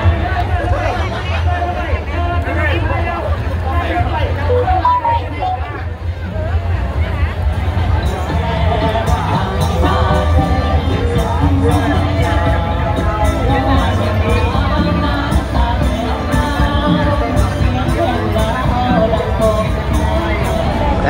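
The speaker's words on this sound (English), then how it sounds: "As you can see, the crowd's starting to get in now." A dense crowd hubbub fills the ground at a boat racing festival in Luang Prabang, Laos, with a steady, loud babble of many voices and scattered shouts that carries on throughout.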